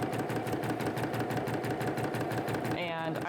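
A sewing machine runs a steady, fast stitch through the fabric of an elastic-waistband circle skirt, set to a longer seam-rippable stitch. The close, continuous whir carries on unbroken, and a voice cuts in briefly near the end.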